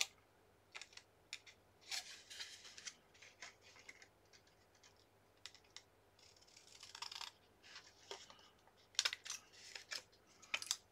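Scissors snip through paper while trimming a gift pop-up card, in a string of short crisp cuts and rustles that come in uneven bursts, close and fairly quiet, with no voices.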